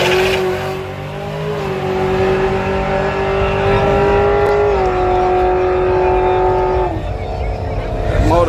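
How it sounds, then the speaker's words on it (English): A Mustang race car engine drones steadily down a drag strip, a sustained loud mechanical roar with shifting pitch that steps up at a couple of points, heard from a distance with no talk over it. "That motor sound good going down track."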